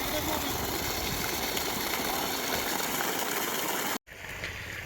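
Water gushes under pressure from a SiddhKala 3 HP solar pump at a well, a loud, steady broadband rush that cuts off abruptly near the end before resuming more softly.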